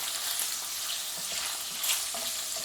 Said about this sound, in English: just allow the tofu to start to brown on the surface a little bit.